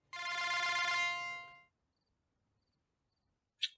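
A phone rings loudly with a single bright electronic ringtone burst that stops, followed by silence and a brief faint click.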